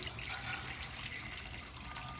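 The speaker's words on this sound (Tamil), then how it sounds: "மட்டன் வேகிறதுக்கு தண்ணி சேர்த்துக்கிறேன்" Water pouring steadily into a pressure cooker holding mutton, a continuous close splashing rush with no break.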